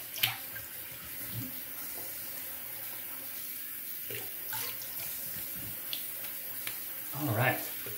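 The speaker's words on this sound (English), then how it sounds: "Let me rinse up and put some of that alum on." Tap water runs steadily at a sink while rinsing after a shave with a boar-bristle brush and soap, a continuous soft hiss with brief splashes and a short voice near the end.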